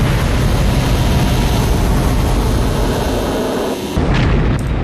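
A Mark 48 ADCAP torpedo detonating in the Silent Steel submarine game: a loud, sustained low rumbling roar that cuts off sharply near the end, followed by a brief fainter burst.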